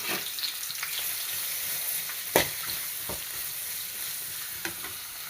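Chopped onions fry in oil in a pan, giving a steady close sizzle with a few sharp spatula knocks and scrapes scattered through it and no voices.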